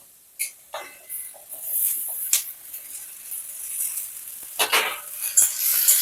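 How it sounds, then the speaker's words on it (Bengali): Cut ridge gourd lands on potatoes frying in a pan, letting out bursts of sizzling hiss mixed with the scrape and clink of a spoon stirring against the metal, close and uneven. "আলুগুলো আমার ভালো করে ভাজা হয়ে গেছে এরপর এর মধ্যে কেটে রাখা ধুদুলগুলোকে দিয়ে দেব"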